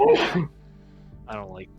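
A single short sneeze bursts out at the start during a tabletop role-playing game session, followed by a brief spoken remark from another person.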